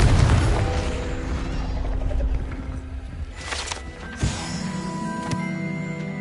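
A Confringo blasting spell cast in Hogwarts Legacy bursts with a booming impact, followed by crackling and ringing magical tones under a busy game soundscape.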